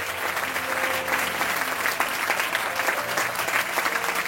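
A church congregation at a French-language seminar breaks into sustained applause, dense and steady throughout, with a few faint voices blending into the clapping.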